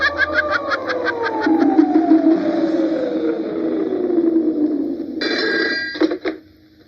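A telephone rings in repeated bell bursts, loud and close, with a sliding tone and background music at first. It continues steadily and cuts off near the end as the receiver is picked up, in a 1988 Indonesian horror film scene.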